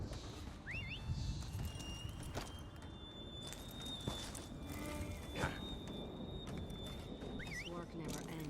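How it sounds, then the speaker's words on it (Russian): Horse hooves clip-clop quietly in a sparse, uneven walking rhythm, with a few bird-like chirps and a faint steady tone behind them. "Лошадь."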